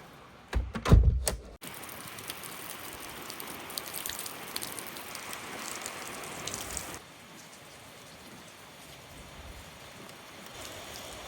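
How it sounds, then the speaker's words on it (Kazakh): Heavy rain pours steadily outdoors, a dense continuous patter that follows a brief burst of nearby clatter at the start and eases slightly in loudness near the end. "Күшті жаңбыр жауып тұр далада."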